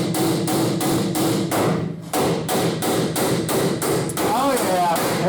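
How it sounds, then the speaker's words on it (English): Repeated loud hammer blows on stuck U-bolts under a 1951 Ford F-1 during a leaf-spring lowering job, a steady run of sharp metallic strikes with one brief pause, close and dominant. "I'm going to try hammering on them some more and we'll see what we can get out of them."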